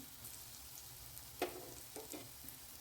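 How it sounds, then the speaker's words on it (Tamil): Onions sauté quietly in a pan for paneer gravy, a faint, even sizzle with a few soft clinks and stirring touches. "வெங்காயம் வந்து நல்லா வதங்கிடுச்சு"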